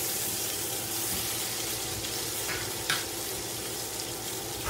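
A small filet mignon roast sears in a hot skillet, producing a steady, close hiss of sizzling with a brief spatter or knock near the middle.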